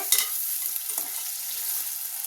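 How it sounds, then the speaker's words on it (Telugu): Thinly sliced carrot, potato and beetroot frying in oil for pav bhaji, with a steady close sizzle and a few stirring clinks near the start, no talking. "క్యారెట్ సన్నగా కోసుకున్న ఆలుగడ్డ అలాగే సన్నగా కోసుకున్న బీట్రూట్ దుంపలే కొంచెం ఫ్రై అవనిద్దాం నూనెలో"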